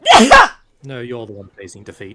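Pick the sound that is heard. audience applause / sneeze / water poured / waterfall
sneeze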